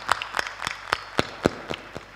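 A ceremony audience claps in response to a call, the claps sounding as a loose string of sharp, separate slaps over about two seconds instead of a dense roar, fairly close and not overlaid by speech.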